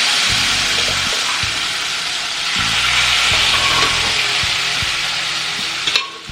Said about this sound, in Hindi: अब मैं इसमें जो टमाटर मैंने बॉईल करे थे दाल के साथ